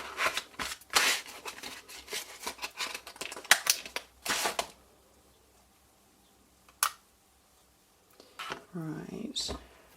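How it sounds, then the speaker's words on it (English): A Big Shot die-cutting machine rolls a cutting plate and framelet die through cardstock, heard as close, loud bursts of clicking and cranking grind over the first few seconds. Quieter handling and a brief voice follow. "my big shot is off to one side, so you're going to hear it"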